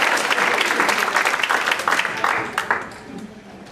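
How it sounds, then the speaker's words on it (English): An audience at a community concert band pops concert applauding, a full, dense burst of clapping that swells and then fades away near the end. "Come on, one more round of applause for George."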